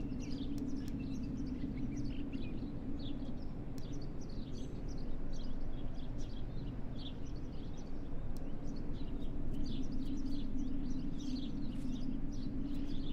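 In the horror game Martha is Dead, a crow caws repeatedly in short irregular calls, moderately distant, above a constant low droning ambience with no talking.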